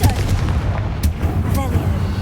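Bombarda and Confringo spell blasts in the video game Hogwarts Legacy: repeated booming, gunfire-like explosions with sharp cracks, loud and close, over a rumbling game soundscape.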